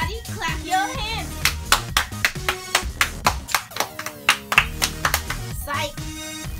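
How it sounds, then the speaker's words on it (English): A group of people, including children, claps hands in a quick series of sharp, close claps over music and talking voices. "Everybody, clap your hands."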